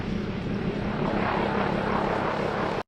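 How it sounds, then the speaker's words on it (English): A Chinook turboshaft tandem-rotor helicopter produces a loud, steady roar that holds at the same level from start to finish and then cuts off abruptly. "The Chinook has the highest payload ratio of any U.S. military aircraft."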